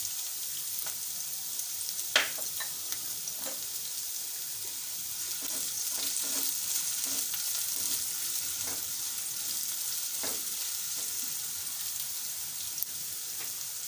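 Spring onion whites frying in a pan for broccoli Manchurian give a steady, moderate sizzle with a few sharp crackles and pops scattered across it, no talking.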